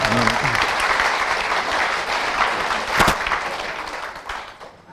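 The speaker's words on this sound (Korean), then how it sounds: "박수 치려면 제대로 한번 쳐보시자고요" Audience applause at a live sales presentation for health supplements, a dense, loud wash of many hands clapping continuously for about five seconds, with a brief voice underneath.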